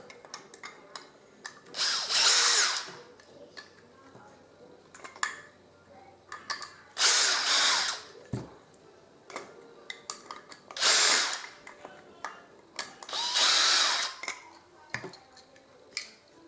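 A power drill backs screws out of scrap metal and plastic pieces being sorted for recycling, in four loud whirring bursts of a second or so each, with clatter and handling noises between them.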